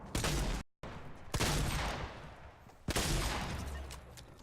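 Shotgun blasts in a video game with a double pump loadout, three loud close booms, each followed by a long, dense roar and rumble, the first cut short by a brief dropout.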